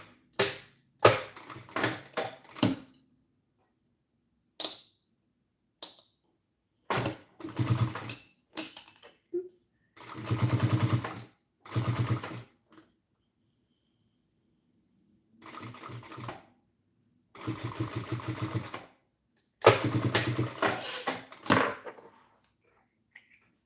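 A sewing machine stitches a messenger bag in short bursts of rapid mechanical whirring and clatter, starting and stopping repeatedly with silent pauses between runs, close and fairly loud.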